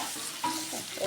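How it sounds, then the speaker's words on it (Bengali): Potato pieces frying in plenty of oil with turmeric, giving a brief, soft sizzle with faint bubbling and no talk. "সুন্দর করে আলুটা ভাজবো"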